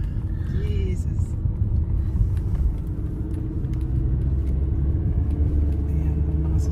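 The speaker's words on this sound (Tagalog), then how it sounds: "Ayan, ang mga sasakyan na." Cars on the Cairn O'Mount road, a 1,493 ft high pass in Scotland, make a continuous low road rumble throughout, heavy and close, with faint voices underneath.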